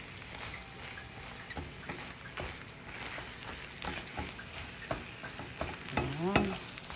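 Food sizzles steadily in a frying pan while being stirred and flipped, with scattered scraping and tapping of a utensil against the pan and a brief squeak near the end, close and moderately loud with no talking.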